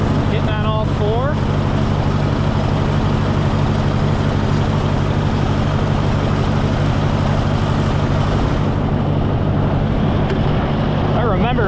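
A Ford Golden Jubilee tractor engine runs at a steady idle close by, a continuous low throbbing rumble that holds throughout while someone talks over it.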